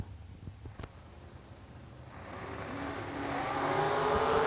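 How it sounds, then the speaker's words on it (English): A winged dragster roars down a drag strip, with a faint rumble and a sharp click early on, then the engine noise swells louder and nearer over the last couple of seconds. "That winged undercover dragster over in the right lane"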